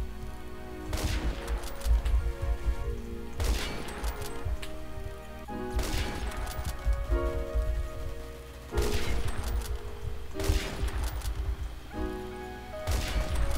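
Rapid gunfire in the online shooter game Phantom Forces, repeated loud bursts of shots in clusters every couple of seconds over a steady game-sound backdrop.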